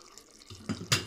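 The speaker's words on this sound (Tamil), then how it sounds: "நான் 1 கிளாஸ் தண்ணி ஊற்றுறேன்." A glass of water is poured into a pot of garlic kulambu while cooking, a short splashing pour that builds over about half a second, close and fairly quiet, with no talking.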